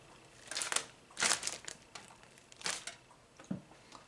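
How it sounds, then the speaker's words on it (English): A plastic bag holding harvested sunchokes crinkles and rustles close by in several short bursts, with quieter pauses between the handling sounds. "I put them in a plastic bag, like one of these,"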